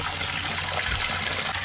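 Steady, full rush of water pouring into a bucket for a bush shower at a campsite, a continuous close splashing stream with no talking.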